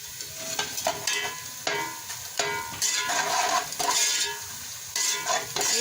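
Whole dry spices roasting in hot oil for matar pulao, a steady close sizzle broken by repeated scraping and stirring strokes of a spoon against the pan, with no one speaking.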